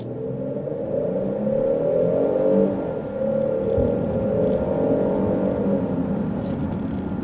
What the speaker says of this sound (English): And it almost sounds like they've tried to do that like enhanced engine noise thing, but it hasn't quite worked.